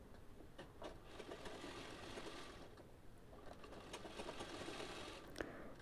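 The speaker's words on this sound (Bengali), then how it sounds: "ভাঁজ করে চারিদিকে চাপ সেলাই লাগিয়ে নেব।" A sewing machine running a top stitch around the edges of folded cloth for a fabric bow: a steady, faint, fast mechanical hum and chatter that continues throughout, with no talking.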